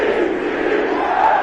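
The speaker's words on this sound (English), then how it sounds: "Plenty of shouts from this crowd as they watch the replay." A football stadium crowd shouts and roars during a replay, a dense sustained wall of many voices at fairly high volume throughout the short stretch.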